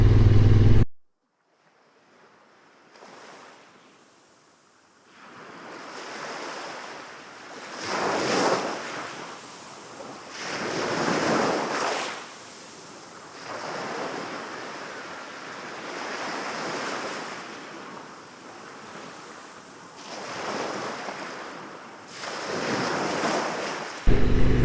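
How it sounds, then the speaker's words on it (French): Wind buffets the microphone while waves surge and wash ashore in repeated swells, rising and falling every few seconds along the open Saumonards beach in Charente-Maritime, France. "Et nous voici arrivés sur le site de la plage des Saumonards."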